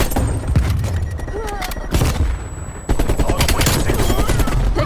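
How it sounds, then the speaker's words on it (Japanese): Dense enemy sniper fire and other gunshots crack and boom in Call of Duty: Black Ops Cold War, loud bursts over a busy battle din with shots stacking in rapid, overlapping volleys throughout. "敵スナイパーの狙撃。"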